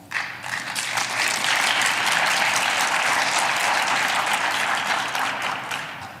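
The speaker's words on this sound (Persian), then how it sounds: "امیدوارم این کف زدن به معنای" Audience applause filling a hall at the Iran Freedom Congress, a dense sustained wash of many hands clapping at once, rising quickly, holding steady for several seconds, then easing slightly, with no speech over it.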